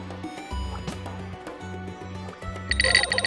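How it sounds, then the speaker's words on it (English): A mobile phone rings in a repeating pulsed pattern over a steady low hum, with a brighter, louder burst near the end. "That's my phone ringing."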